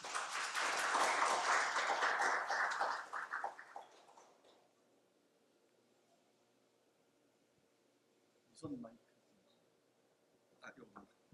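An audience at a lecture gives loud, full applause to welcome guest speaker Kim Seok-dong; the clapping fades after about four seconds into near silence, followed by a few faint shuffles.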